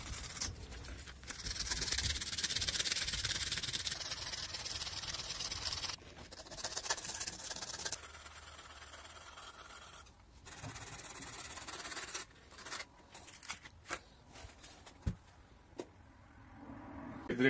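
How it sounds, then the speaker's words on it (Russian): Sandpaper rubbed by hand on an old drill bit clamped in a small vise, a close, raspy scraping in long strokes that pauses and then turns into short, irregular rubs and scratches. "теперь возьмем наждачную бумагу и будем шлифовать, чтобы у нас это все прям блестело."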